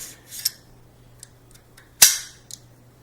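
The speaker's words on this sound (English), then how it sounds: "We are now resetting the bolt carrier." The bolt carrier of a YHM DMAR-47 AR-47 rifle is reset, a few faint metallic clicks then one sharp loud snap as it seats, close and alone.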